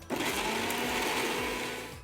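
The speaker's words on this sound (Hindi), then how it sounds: "Bajaj evoke 1000 what mixer grinder ड्यूराकट blades के साथ आता है" A Bajaj Evoq 1000 watt mixer grinder with DuraCut blades grinds coconut chunks dry without water, a loud, steady, close motor whir running continuously throughout.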